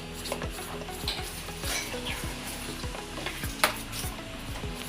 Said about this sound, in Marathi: त्यातनं मी आता 1 चमचा तेल त्यामध्ये टाकणार आहे. आणि त्याला पण आता व्यवस्थित आपण मिक्स करून घेऊया.